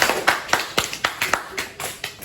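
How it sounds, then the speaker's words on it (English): A small group gives a round of applause in a classroom demo, loose individual claps ringing out in an uneven rhythm, fairly close and brief, with no talking. "give Lexi a round of applause"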